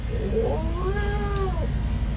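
A single long, wavering yowl from an aggressive, distressed cat, close and clear over a steady low background hum, with no talking.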